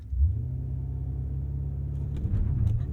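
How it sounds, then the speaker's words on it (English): A Maserati Ghibli Trofeo held at high revs against the brake for a launch-control start gives a deep, steady engine drone, then surges louder near the end as it pulls away, with no talking. "keeping my foot pinned on the brake, I pin the accelerator and then let go of the brake"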